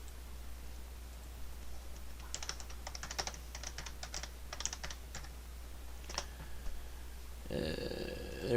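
Computer keys clicking in a short burst of quick typing, close and fairly quiet over a steady low hum, followed by a few isolated key taps and then a brief electronic tone.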